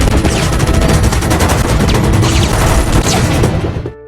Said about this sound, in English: Chris uses his precognitive powers to get to the balcony and dodges the incoming bullet as the sniper fires